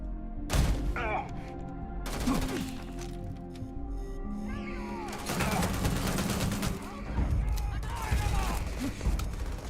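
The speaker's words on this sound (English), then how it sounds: "I feel like shooting shit" Gunfire from the video game Starfield: several bursts of shots and sharp cracks spread through the clip, loud and close, over busy game sounds, with voices talking in the background.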